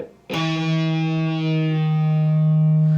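A loud, distorted electric guitar note from an overdub rings out with heavy effects, sustained and buzzing with a noisy, gritty edge for about three seconds.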